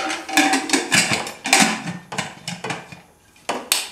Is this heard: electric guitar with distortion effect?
no